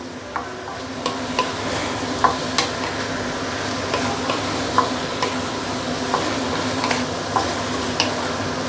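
Leek slices and roast meat stir-fried in a wok with caramelized dark soy sauce: a steady sizzle with regular scraping and clicking spatula strokes, close and continuous, no voices.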